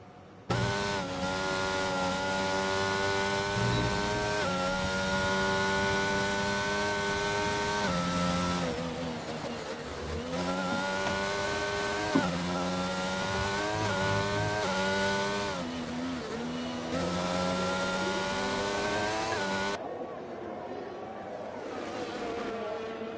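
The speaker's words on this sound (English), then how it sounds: "So we'll ride on board with Macca, the only car out on track" A McLaren race car in a racing video game runs alone on track, its engine droning loudly and steadily with rising and falling pitch through gear changes, then cutting off near the end.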